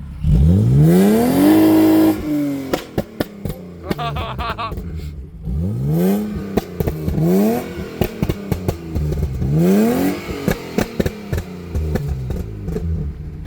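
A BMW car engine runs and drives past in loud repeated sweeps, rising revs alternating with brief drops, with sharp clattering transients through the middle; some faint voices may sit underneath.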